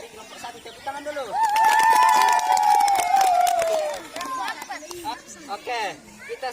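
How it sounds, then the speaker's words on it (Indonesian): Students applaud a group's long jump practice demonstration, brisk clapping mixed with lively crowd chatter and one drawn-out shout riding on top, then settling into scattered talk. "Tepuk tangan dulu."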